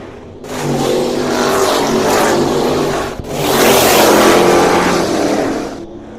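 Loud street stock race car engines roar continuously at All Tech Raceway, with one car screaming past close by midway before another surge of revving motor noise fills the track.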